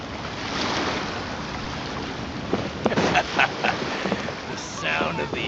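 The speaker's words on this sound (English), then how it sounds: "The sound of the ocean." Ocean waves wash and roll continuously along a shore in the video game Genshin Impact, a broad, steady surf with some wind, while a character's voice speaks over it.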